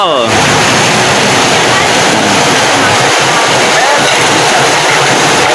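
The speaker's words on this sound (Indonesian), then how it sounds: "Di sini hujannya pol." Heavy rain pours down in a loud, steady, dense hiss at close range, with no breaks or other sounds standing out.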